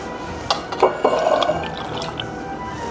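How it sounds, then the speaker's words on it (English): Smirnoff vanilla-flavored vodka, two ounces, poured for a butterbeer cocktail: a close liquid trickle and splash into a glass with a few clinks, lasting a couple of seconds, no talking. "I'm gonna do 2 ounces of the Smirnoff vodka vanilla vodka flavor."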